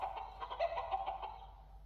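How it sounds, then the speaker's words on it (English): Farmyard hens cluck in a quick run of short, bright calls, fairly faint and close together, with no voices over them. "The hens hurry back and forth all day, clucking as they search for tasty worms."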